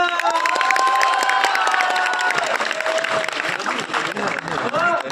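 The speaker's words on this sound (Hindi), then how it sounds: "जोरदार तालियां।" A crowd applauds and cheers at a nursing event, loud, dense clapping mixed with whoops and children's shouts, while a voice rises over the noise.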